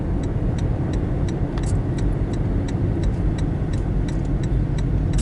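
A car rolls along a dirt road with a steady low rumble of engine and tires, punctuated by light ticking rattles and small clicks from the gravel surface.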